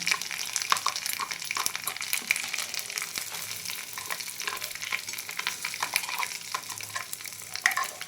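A pan of ground kalai lentil paste, for a Radhaballavi filling, fries with a steady sizzle while a utensil stirs and scrapes through it in irregular strokes, close and uninterrupted.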